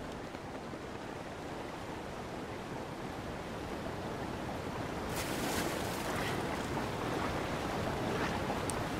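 Waterfall and fast-flowing river current in the Zelda Breath of the Wild video game, a continuous dense rushing wash that swells slightly louder in the second half, with no one talking.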